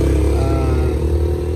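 A motorcycle engine running wild and out of control, holding a steady loud, rough high-revving drone with a dense low rumble throughout, close and continuous.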